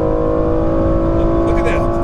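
A 2014 BMW M235i or Lexus IS F sports car engine holds a loud, steady high-rpm roar near redline, close and continuous with no talk over it.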